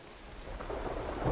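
Thunder rumbles through a stormy scene in the video game Terra Nil, a low, broad roll that swells steadily and grows loudest near the end, heard alone with no voices.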